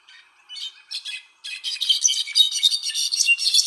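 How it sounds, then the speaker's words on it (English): Played-back call of a Guatemalan bird: harsh, raspy squawking notes, a few isolated bursts at first, then a dense continuous chattering run, clear and close with no talk. "I'm going to play for you guys the call of this bird."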